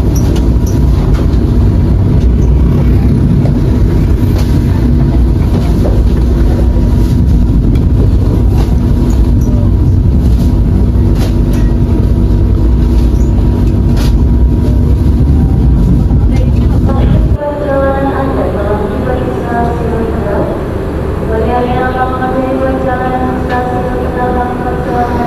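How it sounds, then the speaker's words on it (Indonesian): The Tawang Jaya Premium train from Semarang Tawang to Pasar Senen rolls through Tegal station with a loud, continuous close rumble for most of the stretch, then drops away to quieter station ambience with a voice. "Kita akan berjumpa dengan kereta api Tawang Jaya Premium dari Semarang Tawang Bang Jateng tujuan Pasar Senen."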